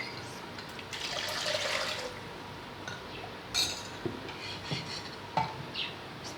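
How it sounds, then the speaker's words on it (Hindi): Water pours steadily into a pot of curry pakora base for a couple of seconds, followed by scattered stirring scrapes and light clinks of a utensil. "अब इसमें अपने पानी डालेंगे।"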